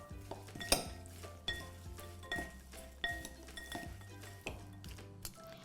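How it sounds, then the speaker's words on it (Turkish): A spoon stirs a mashed banana and honey cookie mixture in a bowl, producing rhythmic clinks and scrapes against the bowl roughly every second, quiet and close with no talking. "Şimdi bunu güzelce karıştıracağım"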